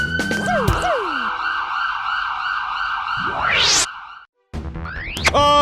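A police siren wails loudly with repeating yelps and a rising sweep, then cuts out briefly before resuming with more whoops.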